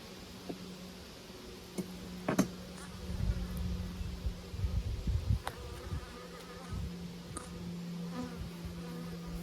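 Honey bees buzz steadily around an open hive during hive maintenance, a continuous close insect drone with individual bees zipping past now and then, occasional low thumps and handling noises mixed in.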